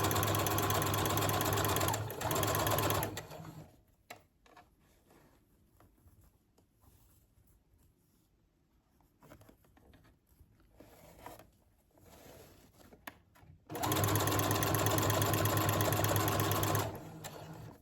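A sewing machine stitches along a saree edge in loud, steady whirring runs at the start and the end, with quieter handling of the fabric in between.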